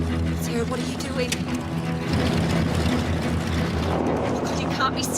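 A small plane drones on steadily, heard from inside the cabin as a constant low engine hum with faint voices mixed in.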